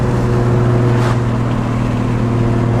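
A Nissan 240SX with a big-turbo RB25 engine drones steadily and loudly from inside the cabin, a continuous low engine hum with no pauses and no voices.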